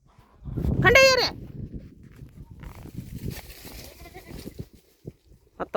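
A goat lets out one loud, wavering bleat close by, followed by quieter shuffling and rustling from the livestock around it.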